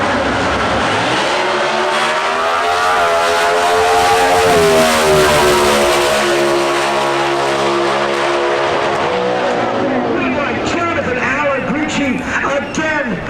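Ford Mustang drag race cars in an NHRA Factory Stock final at the Summit Nationals in Norwalk, Ohio, roar loudly as the engines rise in pitch under an announcer's excited commentary.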